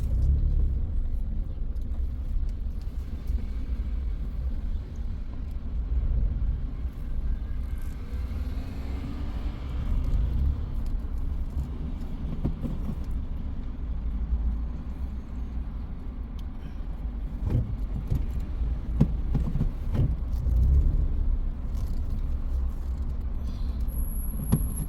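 A bus driving in city traffic in Britain, its low engine rumble steady and close throughout with surrounding road noise and no talk.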